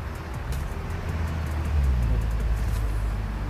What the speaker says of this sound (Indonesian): Dan siap-siap mau berangkat ini bus PT Rapi.